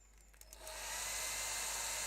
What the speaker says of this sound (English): This isn't a hose pipe, this is a hairdryer.